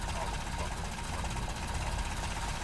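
A modded car engine in the Red Dead Redemption 2 video game, running with a steady, buzzing, uneven drone throughout, fairly quiet under someone talking.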